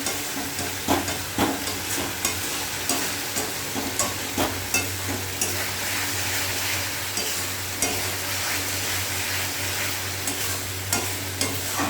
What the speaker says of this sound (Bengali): তো কষা হয়েই যাচ্ছে।